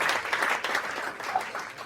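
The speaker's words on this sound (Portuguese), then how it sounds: "palmas para ele." Continuous applause during a Portuguese-language gaming podcast, a steady wash of many hands clapping at fairly close range, even in level throughout.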